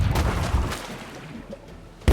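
Ship cannons fire in the pirate game Rogue Waters, booming low thuds rolling under a continuous rumbling wash, with a fresh sharp blast at the very end.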